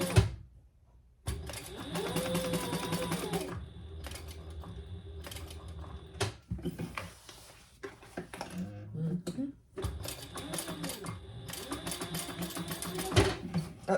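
A sewing machine running a 3 mm stitch length through interfaced fabric for a laptop bag, its rapid rhythmic whirring and clatter coming in several close bursts, with short pauses between them and someone talking.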